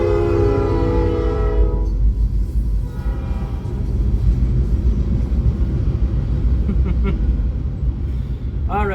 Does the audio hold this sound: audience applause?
no